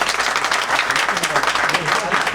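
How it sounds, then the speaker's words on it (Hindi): A crowd bursts into loud, dense applause, a continuous wash of many hands clapping at once that holds steady at full strength, close and filling the room. "जोरदार तालियां हमारी इसके लिए"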